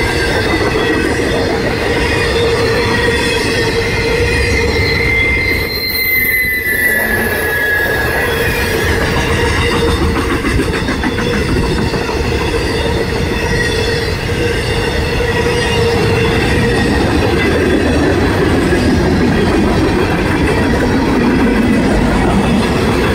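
A CSX M427 freight train hauling shipping containers rolls past near Haverhill, Massachusetts, loud and close, with a continuous rumble, rhythmic wheel clatter and sustained high wheel squeal throughout.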